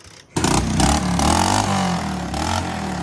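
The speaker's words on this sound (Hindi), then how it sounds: "बाइक का ट्रेंडिंग साउंड है, साउंड सुनाओ इसका" A trending-sound motorcycle engine fires up abruptly and settles into a loud, close, throaty idle with slight revving and a rough rumbling rhythm.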